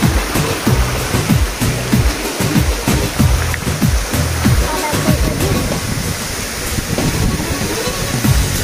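Haraz waterfall dropping 45 metres, a steady loud roar of rushing water that fills the scene without a break, with faint human sounds mixed underneath.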